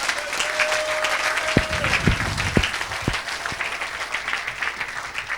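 A church congregation breaks into steady applause and cheering that carries on for several seconds, with a voice briefly audible within the crowd noise.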